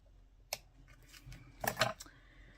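Scissors snipping through card for a handmade layered greeting card, a sharp single snip early on followed by a louder cluster of quick close cuts, with soft handling rustle between.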